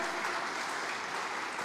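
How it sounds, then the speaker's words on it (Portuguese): A church congregation at a Sunday service clapping steadily throughout, dense and even, with no pauses or voices standing out. "Você pode aplaudir ao Senhor por essa palavra?"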